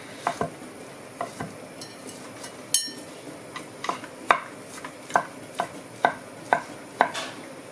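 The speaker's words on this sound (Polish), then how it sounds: "Pokroję sobie pierś kurczaka w drobną kostkę." A knife on a cutting board dices chicken breast into small cubes, giving a steady run of crisp taps that grow more regular, close and fairly quiet.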